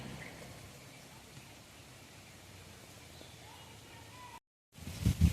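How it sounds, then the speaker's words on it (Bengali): Light rain falls outdoors, a faint, even patter and hiss. It cuts out briefly near the end and gives way to close handling knocks. "বৃষ্টি এসে গেছে বন্ধুরা, হালকা হালকা পড়ছে"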